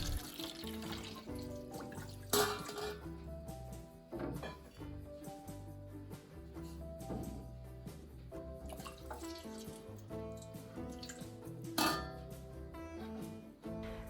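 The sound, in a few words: water poured into a basin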